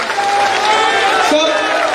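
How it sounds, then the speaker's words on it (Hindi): Crowd applause welcoming the Chief Minister at a Congress nomination rally in Nathdwara, a steady, dense wash of clapping and crowd noise that holds loud and even for the whole stretch, with voices mixed in. "आप सबसे अपील करता हूँ जोरदार ताली बजाकर माननीय मुख्यमंत्री जी का स्वागत करें।"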